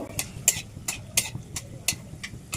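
Whole bay leaves, cloves and cracked cardamom pods stirred in hot oil in a pan, giving a series of light, crisp scraping clicks every third of a second or so against a faint sizzle, close by.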